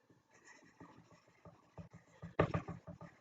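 A pen writes on paper while working out an electrochemistry problem, giving continuous scratchy strokes with rhythmic taps, close and moderately loud, with a sharper stroke burst near the middle and no talking.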